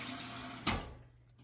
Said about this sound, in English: It's flushing. See how it's washing the sides again as it fills.